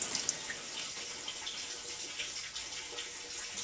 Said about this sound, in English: And then I follow it up with distilled water.